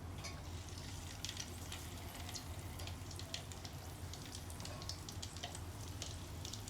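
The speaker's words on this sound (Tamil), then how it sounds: "இப்போ நாங்கள் இதை பொரிச்செடுப்போம். எண்ணெயை மீடியம் ஹீட்டில் வச்சுக்கொண்டு இதை போட்டு எடுப்போம்." Marmite murukku deep-frying in oil over medium heat, a faint continuous bubbling hiss with fine crackles throughout, steady and low in level with no talking.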